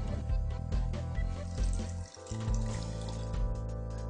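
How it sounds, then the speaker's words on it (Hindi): Water splashes and gurgles into a cooking pan of tomato mixture with vinegar, a loud continuous pour with a brief dip in the middle. "सिरका डालने के बाद आप 100 मिलीलीटर पानी पैन में डाल दें"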